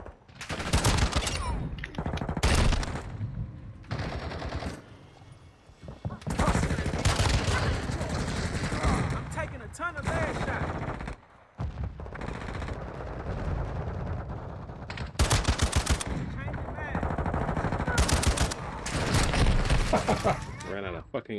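MX Guardian submachine gun firing in an online shooter match, loud rapid automatic bursts repeating across the clip, mixed with explosions and game voice callouts.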